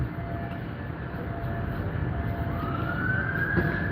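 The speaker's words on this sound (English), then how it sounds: "Well, that also sounds like a fire engine, to be fair." An emergency vehicle siren, ambulance or fire engine, in central London sounds faintly in the distance, a rising wail emerging over steady low traffic rumble.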